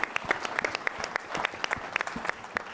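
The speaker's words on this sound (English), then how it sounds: "I want to give a round of applause for the room" Applause from a conference audience at a supplier executive panel, a steady patter of many hands clapping at close range for a few seconds with no talking.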